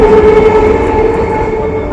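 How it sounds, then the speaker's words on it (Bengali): A train rumbles past steadily and loudly throughout, its continuous roar of wheels and carriages filling the scene without pause. "এবার এইদিকে ট্রেনটা দেখছে"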